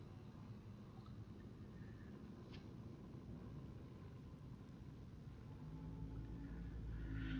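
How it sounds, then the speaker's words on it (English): A low, steady mechanical hum from an oxygen generator in the video game Subnautica rumbles quietly throughout and swells slightly louder toward the end, with no one talking. "that noise is the oxygen generation thing"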